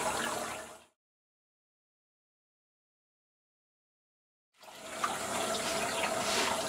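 A dirty makeup brush is rinsed under running water from a tap, a close, steady splashing flow that stops for a few seconds and then starts again.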